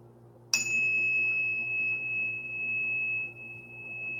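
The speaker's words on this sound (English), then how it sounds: "So I bought another little thing, a little chime." A small chime used for sound healing is struck once, giving a bright ping that settles into a long, pure sustained tone over a low steady hum.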